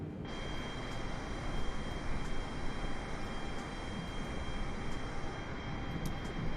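A Boeing 747 cruising in flight in a flight simulator game, a steady broadband engine roar with a constant high whine, unbroken and even for the whole stretch.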